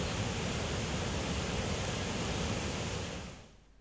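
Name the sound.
Shingoda river floodwater flowing heavily over causeway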